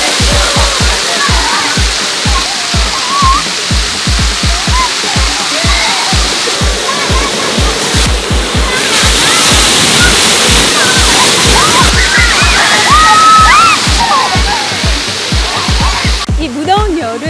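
Fountains at an outdoor summer water playground in Bongjesan Sun Plaza, Gangseo-gu, splash and gush steadily with loud rushing water. Children's voices and play sound through it, and a rhythmic low thumping repeats throughout.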